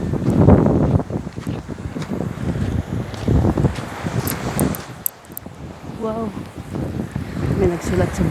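Wind blusters steadily against the microphone outdoors, with occasional faint voices and rustling underneath.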